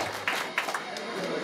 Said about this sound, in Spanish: Fuerte los aplausos para un ahijado más